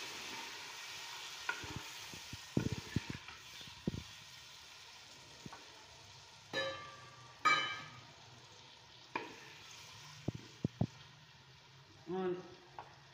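Tomatoes sizzle in a pan with turmeric, chili and salt as they are stirred, giving a low frying hiss broken by spoon clatters and scrapes, with a voice talking at times.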